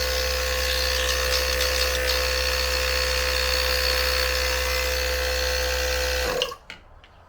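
ARB single air compressor mounted in a Toyota Tundra runs with a steady, loud electric motor drone and buzzing hum, then cuts off abruptly near the end, leaving brief quiet rattles.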